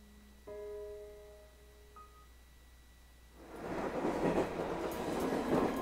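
A train from the Corpse Party video game runs along its rails, starting after a quiet stretch with a few soft tones, then swelling into a steady rattling clatter of wheels that grows louder toward the end.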